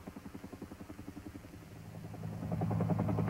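A helicopter flies, its rotor chopping in a steady rapid pulse that grows louder and denser as the aircraft draws nearer.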